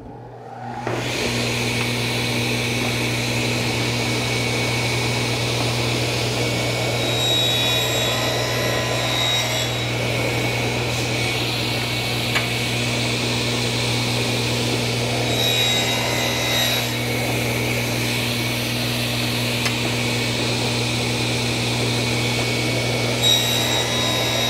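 A power saw cuts small wood pieces for drawers, running as a steady loud whine with a constant low hum and a sustained cutting hiss.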